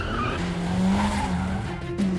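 A car drifting around a test track, its tires squealing in a sustained, wavering screech over the steady roar of the engine, loud and close throughout.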